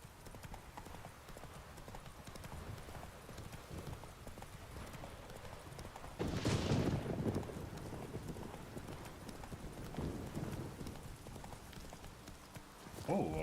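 Hooves clip-clop in a steady rhythm as Geralt's horse Roach gallops in The Witcher 3, the pounding getting louder midway and running over a constant background bed, with a voice heard briefly.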